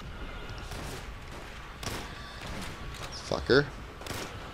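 Gunfire crackles in the video game Call of Duty: World at War, with scattered shots and thuds at moderate loudness and a man swearing over them.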